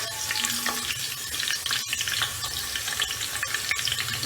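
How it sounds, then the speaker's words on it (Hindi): Onion and garlic fry in a pan for a cauliflower and meat curry, the half-cooked onions giving a steady, close, dense sizzle with soft crackles throughout and no voices. "अब अपना लहसुन भी शामिल कर देंगे। हमारी प्याज कच्ची पक्की हो गई।"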